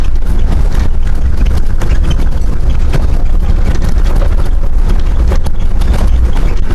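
Cattle walking along a rough gravel road near Many Glacier in Montana's Glacier National Park, heard as a steady stream of clopping hoof steps mixed with heavy wind rumble on the microphone, loud and continuous throughout.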